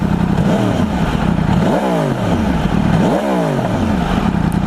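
A 2016 Yamaha R1 with an Akrapovic GP slip-on exhaust revs up twice in quick succession, each blip rising and falling over a steady, throaty idle, loud and close.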